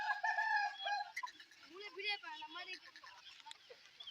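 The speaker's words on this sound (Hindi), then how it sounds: "मुर्गे और मुर्गियां खेत में आई हुई हैं" A rooster and hens in a farm field in a Sindh village give loud, close crowing and clucking calls in the first seconds, followed by softer, scattered clucks and murmuring noises.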